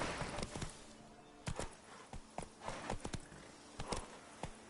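Roach the horse galloping in The Witcher 3: Blood and Wine, a quick series of sharp hoofbeats in an uneven running rhythm, fairly close and clear.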